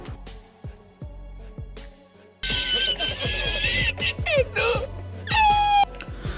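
A cat meows several times while chasing a mouse, loud close cries that rise and fall, with sharp tapping sounds before them and background voices throughout.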